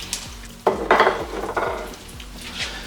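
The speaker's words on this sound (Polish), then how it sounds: "No i smażymy na złoty kolor z każdej strony." Buckwheat patties fry in a pan with a steady crackling sizzle, joined by a few clinks and scrapes of a utensil against the cookware, no voices.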